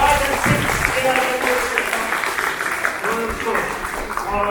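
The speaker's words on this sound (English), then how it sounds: "Please clap for them." A quiz-competition audience applauds the teams in a short burst of clapping, heard close and mixed with talk and a voice over the top throughout.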